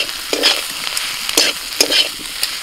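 Spiced mushrooms fry in a pan with a steady sizzle while a utensil stirs and scrapes them in a few distinct bursts, close and clear with no voices.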